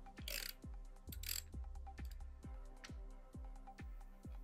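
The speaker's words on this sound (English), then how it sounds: "Remove the diaphragm nut with a 1-inch socket wrench." Ratchet clicks from a 1-inch socket wrench backing off the diaphragm nut on a Kimray low-pressure back pressure regulator, about ten crisp, evenly spaced clicks with brief metallic scrapes, close and clear with no talk.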